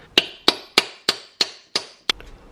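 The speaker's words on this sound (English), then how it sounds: "So when you hammer it in, you don't want to hammer it in by the edge" A hammer drives a driveline pin home through a 15 mm deep-well socket on an E34, seven sharp, ringing metallic strikes at a steady pace, close and loud.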